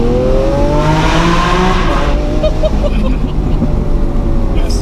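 Loud Lamborghini Aventador S engine revving under throttle, a rising howl that climbs then eases off and settles into a steady drone, with a voice briefly heard over it.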